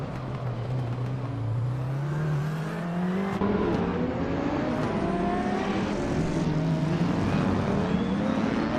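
A 2012 Aston Martin Vantage GTE race car in a racing video game holds a steady, loud engine drone that climbs in pitch through the gears, with other cars' engines layered underneath throughout.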